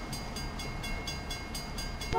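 Rolling rumble of a train passing in Trainz Railroad Simulator 2019, set on an Indian railway in heavy rain, with a steady low roar and a regular beat of wheel clacks repeating about every quarter second, loud and close throughout.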